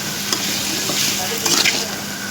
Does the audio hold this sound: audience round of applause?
no